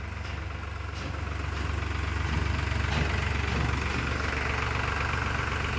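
A 2017–18 Eicher 485 tractor in near-new condition idles steadily nearby, a continuous low rumbling drone with no speech over it.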